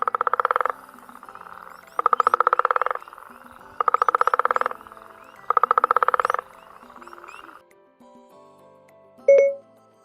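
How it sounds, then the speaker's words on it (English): A toad calls in loud, rapid pulsed trills, four bursts of about a second each separated by short pauses, followed by a fainter trill and a brief electronic chime at the end. "Here's a toad."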